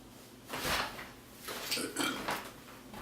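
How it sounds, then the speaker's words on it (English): A couple of low, rumbling burps erupt close up, separated by short pauses, against faint background noise. "I just burped."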